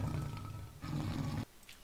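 A lion in the video game Minecraft roars with a deep, rumbling growl that swells twice in close succession before cutting off abruptly, followed by quieter background noise.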